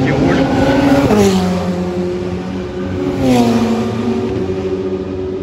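Race cars lapping the Nürburgring circuit in poor weather: loud, sustained engine roar with two rising-and-falling passes as cars sweep by, close and dominant.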